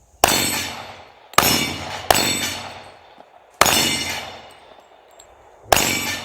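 Gunshots hit steel dueling tree targets in five sharp metallic clangs at irregular intervals, each ringing out and fading before the next.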